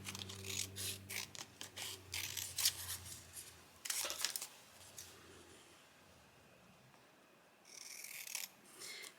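Scissors snip through paper to cut out separate lines of poetry for a junk journal collage: a close, steady series of crisp cuts, then a short pause before a final burst of snipping.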